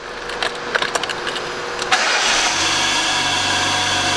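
In a repair shop, a car engine running without coolant cranks with a few sharp clicks and taps, then catches at about two seconds and settles into a steady, fairly loud idle hum.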